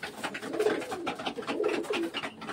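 Pigeons coo repeatedly in a loft as they eat a sesame feed mix, with soft overlapping calls, nearby and moderately loud.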